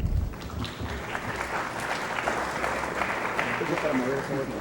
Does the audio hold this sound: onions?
no